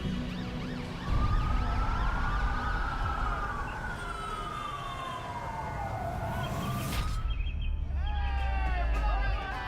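Ambulance siren wailing in long rising and falling sweeps, loud and close over traffic rumble, then fading out as another siren begins nearby.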